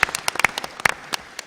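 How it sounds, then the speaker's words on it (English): Sparse, scattered clapping from a small audience at a federal election debate hosted by a chamber of commerce, individual claps standing out irregularly and fading quickly. "give yourselves a round of applause"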